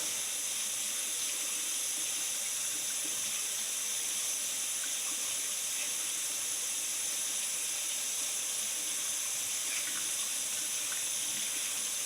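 Tap water runs in a steady, unbroken hissing stream for the whole stretch, filling a container to rinse old horseshoes, with no talking.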